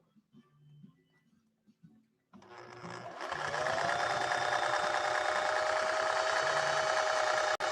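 A 1961 Singer 401A sewing machine stitches a primary stitch. A few soft knocks in near quiet lead to a loud, steady, close whirring hum that runs unbroken to the end.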